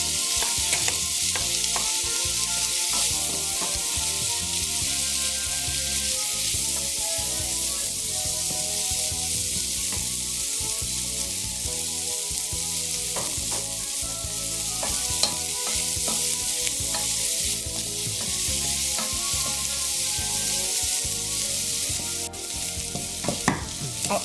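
Onions sizzle steadily in melted fat in a pan, a dense, continuous crackle at even loudness with faint stirring scrapes and no voices.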